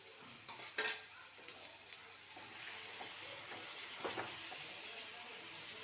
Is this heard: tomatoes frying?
yes